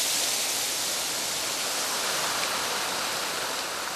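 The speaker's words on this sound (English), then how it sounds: "the intensity and power of this water that's coursing through the veins of this garden" Powerful water rushes through the channels and fountains of a garden in Spain, a loud, dense, unbroken roar of spray and flow with no voices.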